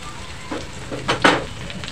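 Chopped onion sautéing in a pan for spicy misal gives a close, steady sizzle with a few louder bursts as it is stirred, and no one speaks.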